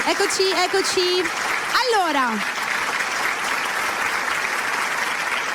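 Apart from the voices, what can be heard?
audience applause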